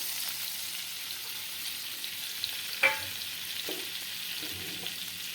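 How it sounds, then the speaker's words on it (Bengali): Butter melting in a hot frying pan as flour is slowly added for a white sauce, giving a steady soft sizzle with a sharper scrape or clack near the middle and a few light stirring touches. "এবারে বাটারটা গলে যাবে এই টাইমে আমি ধীরে ধীরে আমি ময়দাটা দিয়ে দিচ্ছি"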